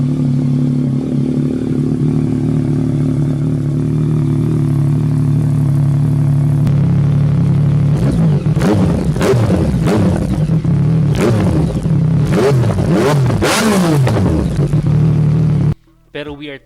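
A stock Yamaha XSR 900 big-bike engine idles with a steady low drone, then revs in a series of sharp, loud throttle blips that rise and fall, cutting off abruptly at the end.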